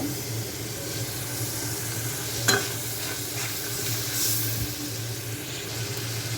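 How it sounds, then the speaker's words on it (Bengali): Large prawns being sautéed together in a pan, giving a steady close sizzle with soft stirring and a single sharp utensil clink partway through, with no voices. "বড় বড় চিংড়ি একসাথে দিয়ে কষাই নেব"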